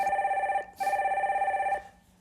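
A telephone bell rings for a listener's call-in on a broadcast, two clear electronic trills with a short gap between them, close and loud, then fading out with no talk over them.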